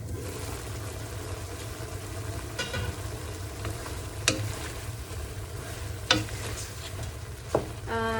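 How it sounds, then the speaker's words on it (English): Tomato shrimp sauce fries on high heat and is stirred as the liquid boils off. A steady close sizzle runs throughout, with a few scraping and clinking strokes from the utensil against the pan. "Now you just want to stir it until most of the soup has evaporated."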